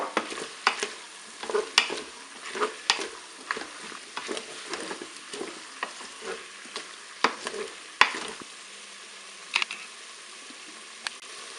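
Onion pieces browning in a Cookeo multicooker on its browning setting, giving steady sizzling with frequent scraping stir strokes and light ticks, close and fairly quiet, no voices.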